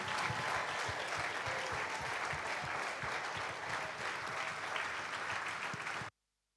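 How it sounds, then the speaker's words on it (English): Sustained, dense applause from a large audience welcoming a speaker at The Platform Nigeria event, loud and steady for about six seconds before stopping abruptly. "Please welcome, with a warm applause, Audrey Joe-Ezigbo"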